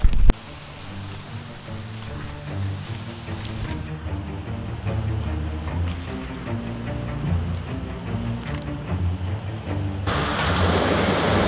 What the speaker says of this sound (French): c'était un bruit constant et ça nous fait penser à une cascade